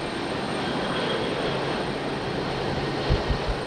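Boeing 737-800 airliner landing at Raleigh Durham International, a steady broad roar of jet engines with a few low thumps near the end as it touches down.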